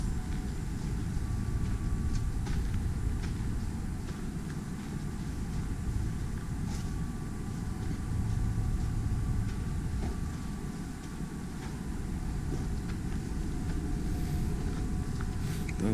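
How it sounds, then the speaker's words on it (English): A mini train rumbles past steadily for the whole stretch, a continuous low mechanical drone with a faint tonal hum and occasional light ticks, fairly close and unbroken. "It's a mini train."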